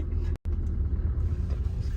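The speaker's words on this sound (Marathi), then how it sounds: "चलो गाडी स्टार्ट" Car engine running with a steady low rumble at close range, broken by a brief cutout near the start before idling on evenly; no voices.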